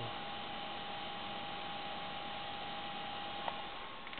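A Dell Dimension 4700 desktop computer's cooling fan runs on its low setting, giving a steady, even whir with a faint hum and hiss, close and unchanging throughout, with one tiny click near the end.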